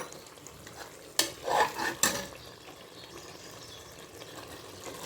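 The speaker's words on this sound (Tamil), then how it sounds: "இந்த அரை லெமனையும் சேர்த்து நல்லா மிக்ஸ் கொடுத்துக்கலாம்." Chicken biryani masala with half a lemon is stirred in a pan, a couple of sharp spoon scrapes and wet mixing sounds over a quiet, low sizzle close by.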